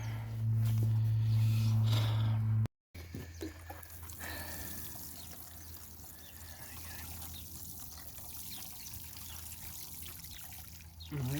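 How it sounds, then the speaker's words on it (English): Water pours and trickles onto soil over newly planted asparagus crowns in a garden bed, a soft steady dribbling stream heard up close after a brief louder handling noise. "And then they just need a good water"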